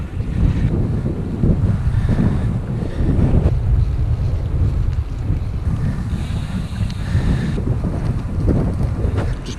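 Steady wind buffeting the microphone while cycling with a tailwind on a road ride, a continuous low roaring rumble with gusty surges, no talking.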